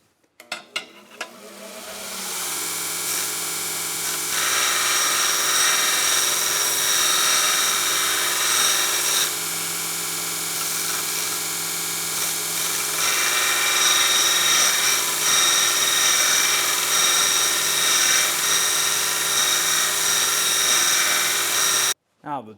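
An old, heavy Delta Rockwell drill runs continuously while a drill bit clamped in a jig is ground for sharpening, a loud steady whirring grind lasting about twenty seconds that starts up abruptly and cuts off at the end.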